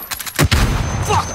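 Loud, close gunfire in the video game Call of Duty Warzone, a few sharp shots followed by sustained noisy rumble, with faint background sound underneath.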